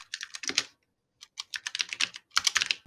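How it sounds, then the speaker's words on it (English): Quick bursts of computer keyboard typing, crisp close clicks in three rapid runs separated by a short silent gap. "I hear you typing away over there"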